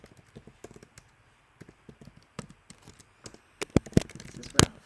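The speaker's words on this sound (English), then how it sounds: "I'm so bad at typing today." Typing on a keyboard in short irregular bursts of crisp clicks, sparse at first and then louder, with a few sharp heavy key strikes near the end, close by with no talk.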